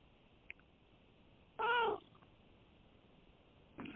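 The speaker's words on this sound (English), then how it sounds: "it sounds like your kitten agrees" A kitten gives one clear, close meow with faint soft sounds around it over a quiet hiss.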